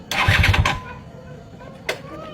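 Motorcycle engine cranking and sputtering without catching, a loud burst of rapid chugging that dies away, then a short second attempt after a pause.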